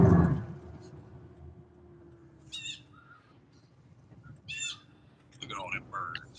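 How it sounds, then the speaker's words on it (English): Birds call outdoors in a few short bursts of chirps and cries, heard moderately close between quieter stretches, with people talking nearby. "Look at all them birds."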